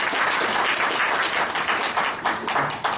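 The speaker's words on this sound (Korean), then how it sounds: "박수 한번 주십시오" A room of professors at a smart-device teaching workshop claps together, a loud, full burst of many hands that holds steady for a few seconds, close by and without voices.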